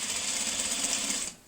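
A sewing machine stitches a locking stitch across a quilt seam, a steady close whirring hum for over a second before stopping abruptly.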